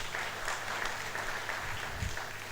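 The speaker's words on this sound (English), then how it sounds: "A round of applause for my beautiful ladies." An audience at an East African employability summit and career awards event gives a steady round of applause to welcomed guests, a dense, even patter of clapping heard from within the hall.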